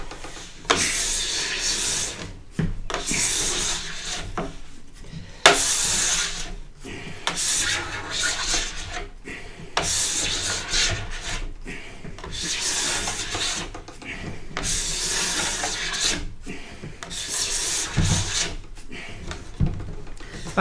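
Wax being scraped and brushed off a snowboard base during a tune-up, a steady rasping rub in long repeated strokes with brief pauses between passes, close and fairly loud, with no talking.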